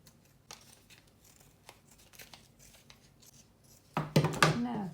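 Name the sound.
cutting fabric around a Christmas tree shape for a card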